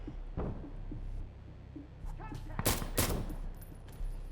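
Single-fire gunshots from a Scar-H (Mark 17) rifle in the video game Insurgency Sandstorm, a few sharp loud cracks clustered near the middle over a low steady background, with faint voice nearby.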